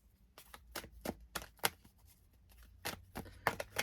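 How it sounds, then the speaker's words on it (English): Several short, crisp bursts of playing cards being riffled and shuffled up close, separated by brief pauses. "Let me give it one more shuffle."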